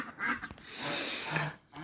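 Geese on a Ukrainian farmstead honking and cackling in a noisy overlapping flock, fairly close, with a few sharper calls standing out over the continuous din.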